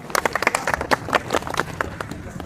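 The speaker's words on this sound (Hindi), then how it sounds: "ताली हो जाए" A short burst of hand clapping from a group, uneven and overlapping, with some faint chatter mixed in.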